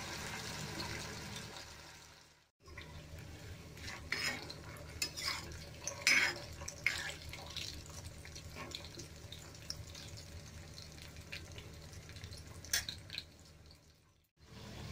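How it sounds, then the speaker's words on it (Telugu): Taro root pieces deep fry in hot oil, a soft continuous bubbling hiss with occasional spoon and pan clinks, cut off by short silent gaps near the start and end. "ఇప్పుడు ఆయిల్ హీట్ అయ్యింది, డీప్ ఫ్రై చేస్తున్నాను"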